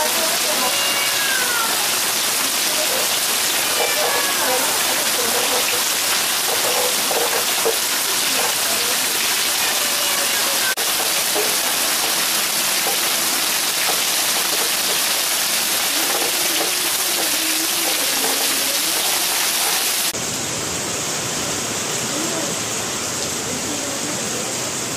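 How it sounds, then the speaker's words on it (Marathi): Heavy rain falls in Lasalgaon as a dense, steady hiss with a loud, even wash of drops throughout, with only faint scattered sounds beneath. No speech is heard over it. "परिसरामध्ये पावसाने जोरदार हजेरी लावली"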